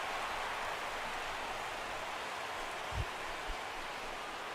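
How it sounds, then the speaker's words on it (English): Steady rain falls on a baseball field in the game Road to The Show, a constant hiss with one or two faint low thumps. "the rain continues to fall here"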